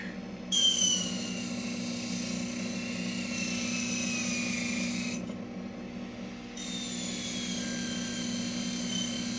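Rotary buffer on a mandrel polishing scratches out of jewelry: a continuous high whine over a motor hum that shifts in pitch as the tool presses, pauses briefly, then resumes, with no talking.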